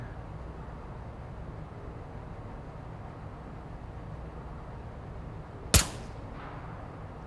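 A single sharp gunshot from a weapon fired one-handed at the shooting range in the VR game Onward, loud and abrupt, cracking once against a steady low background hum.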